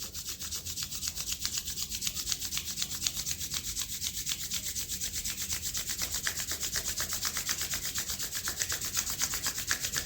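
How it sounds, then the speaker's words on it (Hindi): Two palms rub briskly together to warm up, producing a close, continuous swishing friction with a fast, even back-and-forth rhythm that lasts about ten seconds. "दोनों हथेलियां आपस में रगड़ कर गर्म करेंगे।"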